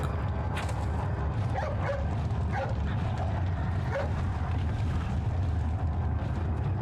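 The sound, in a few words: dog barking and whimpering in a video game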